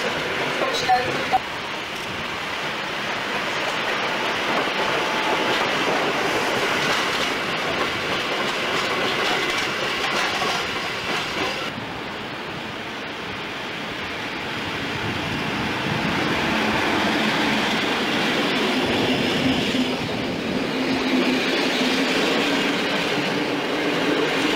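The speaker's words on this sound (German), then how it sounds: "Dieser Zug hat jetzt Einfahrt." A Schnellzug express of the 1989 Deutsche Bundesbahn rolls into Koblenz Hauptbahnhof, its wheels rumbling and clattering steadily over the track as it comes in alongside the platform. The noise rises and falls as the carriages pass.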